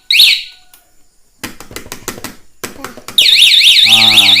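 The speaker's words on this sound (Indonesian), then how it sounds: "Suaranya seperti itu. Kita bisa matikan. Ini bunyinya sekitar 1 menit." A 9Nine A1 motorcycle alarm on a Honda Beat 2020 gives a sharp chirp, then a run of quick clicks and taps. It finishes with a loud, close, warbling siren that sweeps up and down continuously.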